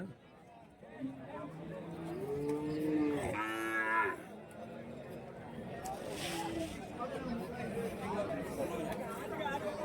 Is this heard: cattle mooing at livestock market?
yes